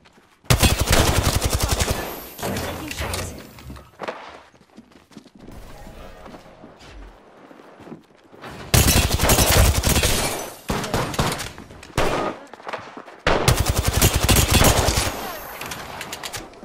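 Heavy video-game gunfire in loud, dense bursts of rapid automatic shots, separated by quieter gaps with softer firing and movement.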